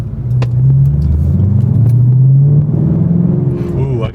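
A Ford Mustang Shelby GT500 with a deep, steady engine drone pulls away, its note rising and falling slightly as it drives off, loud and close from inside the car.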